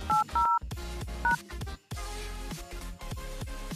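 Phone dialer keypad beeping as the code *800# is entered, a few short distinct tones in quick succession over quiet background clatter.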